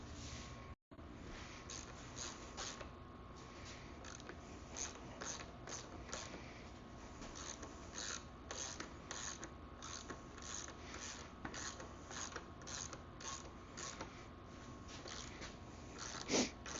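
Ratcheting clicks from a socket wrench unscrewing bolts on a 1974 Mx100 motorcycle, a fast steady run of close, faint clicks over a constant noisy background.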